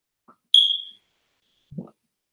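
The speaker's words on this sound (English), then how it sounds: "the smoke detector is going to get on everybody's nerves" A smoke detector gives a single sharp, high electronic chirp that decays over about half a second in an otherwise quiet room, followed by a faint low thump.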